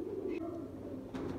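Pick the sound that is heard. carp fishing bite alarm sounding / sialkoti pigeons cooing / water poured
sialkoti pigeons cooing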